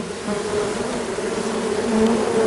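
Honeybees buzz steadily at an outdoor hive, a close, continuous drone that swells slightly toward the end, with no talking.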